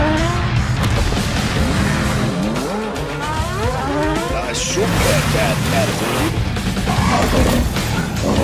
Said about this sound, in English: Hot Wheels cars will be competing for the win at Epic Loop Mountain